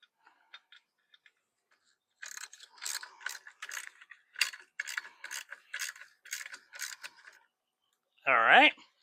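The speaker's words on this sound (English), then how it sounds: "Now we'll go ahead and replace the washer and screw on the nut." Ratchet clicking in a rapid series of short bursts while a nut is screwed onto the axle of a wheel kit for a California Trimmer Catalyst, close and fairly loud, ending with a brief squeak.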